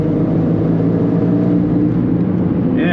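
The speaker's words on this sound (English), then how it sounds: "Just give her a little bit of acceleration now." A Fiat 500 TwinAir small two-cylinder car accelerates around town, its steady engine drone heard close and loud from inside the cabin, with no talk.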